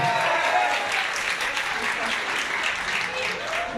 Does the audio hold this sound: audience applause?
yes